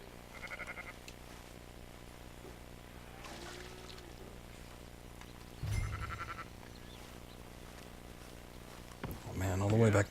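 Sheep bleat in the video game Red Dead Redemption II at a farm with a water trough: a few short bleats spaced across the span over quiet game ambience, the last one louder and closer.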